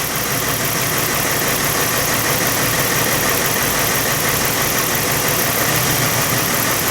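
A Lincoln LS engine runs steadily through a power balance test, producing a constant close mechanical hum with faint rhythmic pulsing and no voices.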